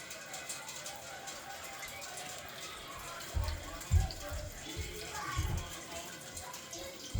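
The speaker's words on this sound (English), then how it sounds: "Brandy's gonna drain it now" Water drains from a Primo water cooler, a steady watery wash with low gurgling surges in the second half, fairly close, over faint room noise.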